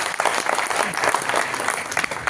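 A crowd at a business gathering claps loudly and continuously, a thick steady wash of hand claps filling the whole moment, close and without speech.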